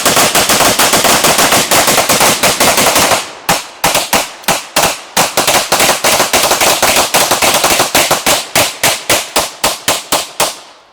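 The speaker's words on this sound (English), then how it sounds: "That was 131 rounds in a handful of seconds." Sustained rapid automatic gunfire, a 131-round magazine dump at a reusable target, loud and close with dense evenly spaced shots, a brief pause near three seconds, then steady bursts continuing to the end.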